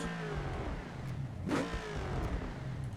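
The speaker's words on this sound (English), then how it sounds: "the X pipe gives it a bit more bass to it" A Gavril Barstow car in the BeamNG driving game, fitted with an X-pipe dual exhaust, revs with a deep bassy engine note that rises in a smooth sweep and peaks midway, heard alone.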